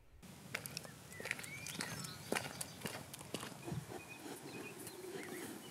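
Dexter cows walk up across a meadow nature reserve, their hooves making soft, irregular thuds and clops at close range, with faint birdsong and rustling outdoors.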